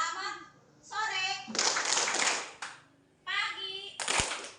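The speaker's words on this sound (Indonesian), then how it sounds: "Coba tepuk-tepuk dulu." Children clap their hands in two dense bursts of rapid claps, alternating with a voice speaking in between, close and fairly loud in an indoor classroom-like space.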